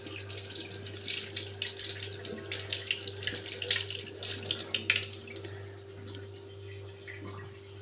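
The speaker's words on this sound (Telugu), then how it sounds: "తీసిన తర్వాత చూడండి ఈ విధంగా శుభ్రంగా కడిగేసేయండి." Peeled snake gourd is rinsed under a running kitchen tap: steady splashing water with small clattering variations, close and continuous, with no voices.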